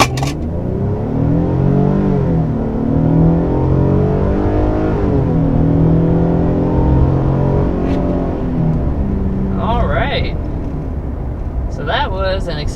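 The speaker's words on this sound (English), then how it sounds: "So that was an acceleration up to 60 miles per hour. We were actually going uphill." A 2022 Nissan Frontier PRO-X pickup accelerates uphill to 60 mph, its engine note a steady low drone that rises and shifts through the gears, loud and close from inside the cabin, with a few brief clicks near the end.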